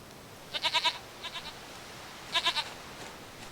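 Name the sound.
goat bleating in The Witcher 3 video game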